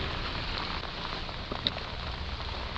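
Steady, soft rain falls around a rider on an XMAX 250 scooter trip in foggy weather near Capitólio, a constant broadband hiss with one brief sharper tap partway through and no voices.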